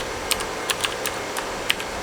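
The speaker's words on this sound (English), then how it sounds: "I'm just gonna press enter on that." A computer keyboard is typed on, with scattered sharp key clicks and an Enter press, while setting up a server install; the taps come close and fairly crisp over a steady background hum.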